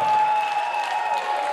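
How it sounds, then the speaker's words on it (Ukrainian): Audience applause fills a New Year concert hall, dense steady clapping at a fairly loud level for a brief stretch, with no talk over it. "Ваші аплодисменти"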